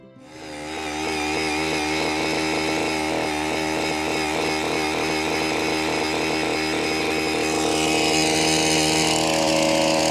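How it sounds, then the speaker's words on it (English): A power drill bores drainage holes through a lawn, its motor revving up quickly and then holding a loud, steady, buzzing whine close by. "we're going to drill through this lawn"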